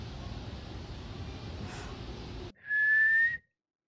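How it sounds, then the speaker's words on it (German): A single loud, sustained whistle at a steady high pitch lasting under a second, following a stretch of rumbling background noise. "Ich habe noch nie in meinem Leben so laut gepfiffen"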